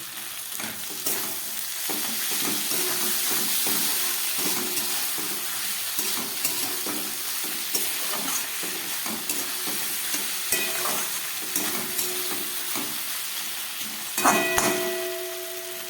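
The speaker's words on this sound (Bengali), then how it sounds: "এবার দিয়ে দিচ্ছি আমি বেটে রাখা পোস্তটা" Ground poppy seed paste with green chilli cooked into beans and potatoes in a pan, a steady close sizzle with repeated scraping and clinking of a spoon stirring, and a louder metallic knock near the end.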